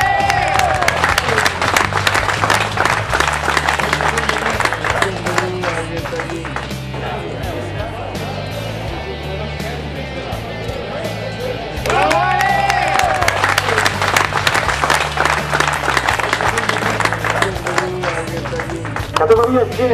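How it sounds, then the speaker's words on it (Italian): A crowd at a propeller-shooting competition prize-giving claps and cheers in bursts while voices talk over it and music plays, the applause swelling again toward the end. "e qui ci vuole un super applauso"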